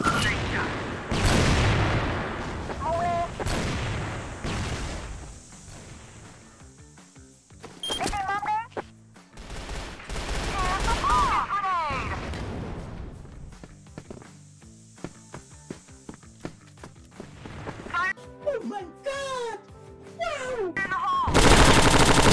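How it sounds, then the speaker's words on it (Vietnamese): SMG fire in the CrossFire video game comes in loud bursts and scattered single shots across a match, with pauses between volleys and people talking throughout. "Bắn thử khẩu SMG xem mà"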